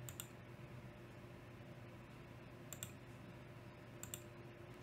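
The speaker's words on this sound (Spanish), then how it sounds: "hacemos doble clic en este lugar para elegir el modelo de CPU" Computer mouse double-clicks in the S7-200 PLC simulator, a few faint, quick clicks in pairs over a quiet steady hum.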